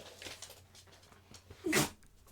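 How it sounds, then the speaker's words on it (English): A stretchy dog creature in the video game Resident Evil Gaiden gives a single sharp sneeze near the end, louder than the soft game sounds before it. "Oh, big sneeze."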